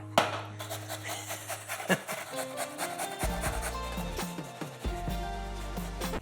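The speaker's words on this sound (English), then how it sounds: "Claus told me to tell you I was grating a carrot. It's a grater, this is a carrot." A carrot is rubbed against a grater for coleslaw, giving a steady close rasping scrape in quick repeated strokes, with a brief knock near the start.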